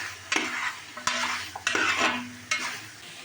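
Large chicken pieces being mixed by hand with ginger garlic paste for chicken mandi, heard as four wet squelching, scraping bursts in quick succession, close and moderately loud with no voices.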